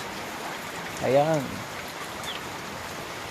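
A rainy afternoon in the province brings steady rain, a soft even hiss throughout, with a brief voice speaking partway through.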